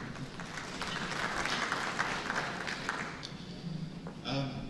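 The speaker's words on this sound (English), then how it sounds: "A round of applause, please, for Ayotunde." Steady applause from a conference audience at a digital summit, dense clapping that holds for several seconds and tapers slightly near the end.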